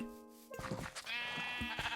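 A Minecraft sheep lets out a clear, wavering bleat, followed by a second longer bleat, close and fairly loud with no talking.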